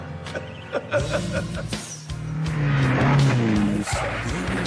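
Danger Mouse's sports car in a cartoon soundtrack: a loud, busy mix of revving engine and squealing tyres layered with other cartoon effects, rising to a sustained roar in the second half.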